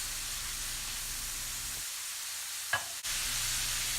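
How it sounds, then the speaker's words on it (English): Ground beef and minced garlic cooking in a pan for keto taco soup, a soft steady sizzle and hiss with a brief stirring scrape near the end, heard close and fairly quiet without talk. "Now I'm adding my minced garlic, and I'm going to mix that through with the ground beef."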